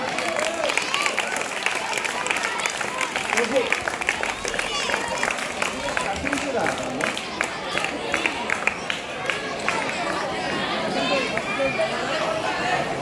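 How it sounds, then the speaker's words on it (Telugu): Audience applause in a school classroom programme, a dense steady patter of many hands clapping throughout, mixed with crowd chatter and voices. "క్లాప్స్ నాన్న."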